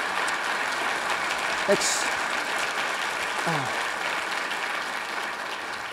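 An audience of sailors and Marines applauds after a talk by an assistant navy secretary, a steady moderate clapping throughout, with a brief spoken thanks partway through.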